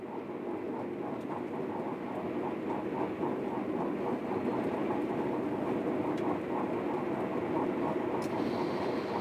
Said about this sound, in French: Nous arrivons en gare d'Avignon TGV